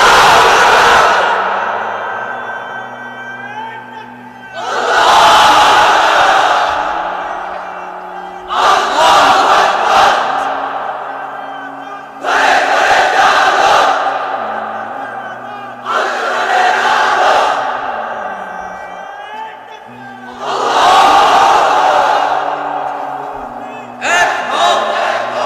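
A large crowd at an Islamic sermon chants the takbir in six loud, surging unison shouts, each swelling and then fading into a pause before the next, with echoing roars in a big open gathering.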